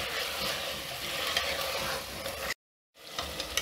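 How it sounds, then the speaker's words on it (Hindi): Tinda sautéing with tomato and green chillies in spiced ghee in a clay pot makes a close, continuous frying sizzle with light stirring, which cuts to a brief silence before the sizzle resumes. "आप टींडे डाल के उनकी मैं पहले बुनाई करूँगी ये साथ ही टमाटर भी डाल देती हूँ"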